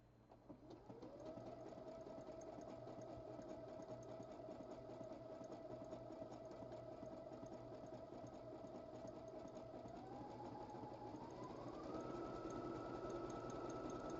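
A sewing machine runs a decorative stitch with a steady, fairly quiet motor hum whose pitch rises as it speeds up near the end, and no one speaks.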